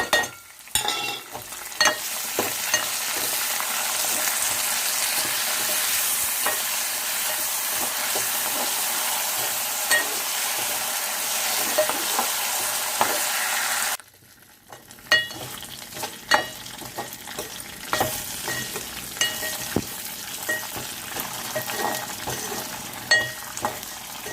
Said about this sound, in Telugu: పోపులు వేగుతున్నాయి కదండి